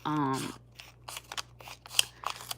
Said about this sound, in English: these little scissors are convenient, but they're not the easiest cutting